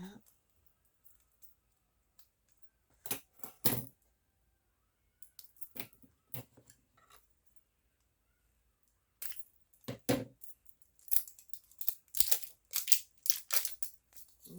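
Scissors snipping foam packaging in a cluttered room, several quick crisp cutting bursts spaced out between pauses, close and fairly quiet.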